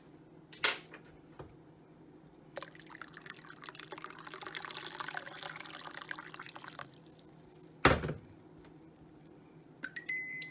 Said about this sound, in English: I need to add a little more water